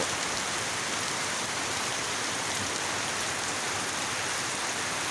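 Heavy rain pours down in Ban Dung, Udon Thani, in Thailand's Isan region, a dense, even hiss of falling water that holds steady and loud throughout, with no talking.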